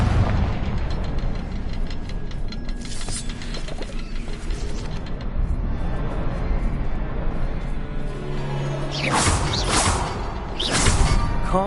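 Confringo blasting spell in Hogwarts Legacy: a whooshing cast and booming explosion over dense game noise, followed by bright swishing bursts near the end, no talk.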